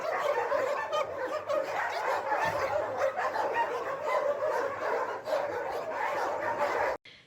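Dogs at a dog shelter in Chuvashia barking and yipping loudly and continuously, close and crowded, with a steady din that cuts off abruptly near the end.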